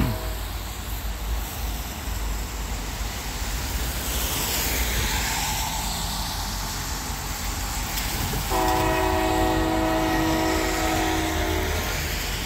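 A Norfolk Southern freight train, C39 led by locomotive NS 6347 running light, blows its horn for a crossing in Creighton, PA; a steady loud rumble builds, then the multi-tone horn sounds sustained and near in the final seconds.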